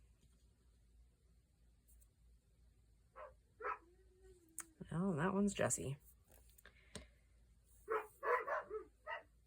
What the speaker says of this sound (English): It's like their night is not complete unless they are barking right outside my window.